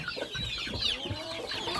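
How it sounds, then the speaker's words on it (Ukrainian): A young rooster clucks softly in short, scratchy bursts, with faint background chirps and rustling throughout. "Маленький півничок?"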